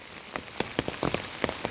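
Rain falls steadily, with distinct drops pattering on a surface in an irregular rhythm over a soft background hiss, close and fairly quiet.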